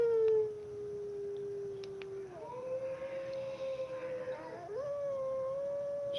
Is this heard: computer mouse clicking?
no